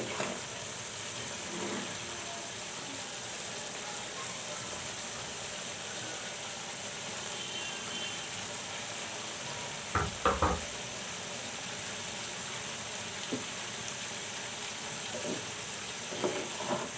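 Tomatoes go into a hot frying pan while cooking a dish of sweet pumpkin, flat beans and dried fish, giving a steady loud sizzle throughout, with a few brief knocks of a spoon against the pan.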